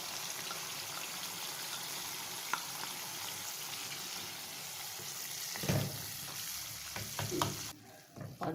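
Yogurt and browned onions hit a pot of chicken and potato curry, bringing a steady close sizzle under scraping, stirring clatter that swells in the last few seconds.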